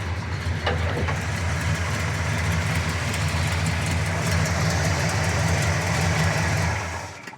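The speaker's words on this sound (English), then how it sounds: "I know this is a 326 engine, but it doesn't run like it. It runs like a 400." A 1966 Pontiac Le Mans with a 326 V8 idles close by, a loud, steady, deep rumble with no voices and an even burble throughout.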